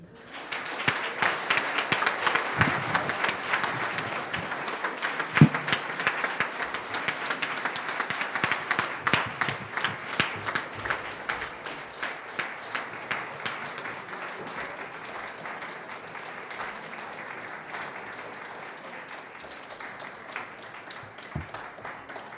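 An audience applauds the winner of a District 53 Fall Table Topics Contest, sustained clapping that starts strong and slowly thins and fades over twenty seconds.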